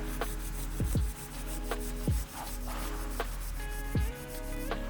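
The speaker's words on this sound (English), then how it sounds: "reach around to the side of your body and scrub on your ribs" Hands scrubbing along the sides of the ribs during a wake-up movement drill: steady, close rubbing friction that runs throughout, with a few louder swishes as the strokes change direction and no talking.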